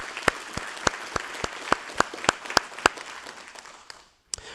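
An audience at a city address applauds a staff award, steady clapping from a mid-sized crowd with sharper individual claps standing out before it stops abruptly.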